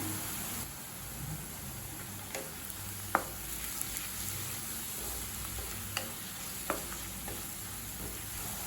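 Onions sizzle steadily in a hot pan while a utensil stirs and scrapes, giving a few sharp clinks against the constant frying hiss.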